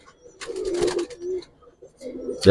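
Giribaz pigeon cooing in low, rolling bursts, a longer run early on and another near the end, fairly close with quiet gaps between.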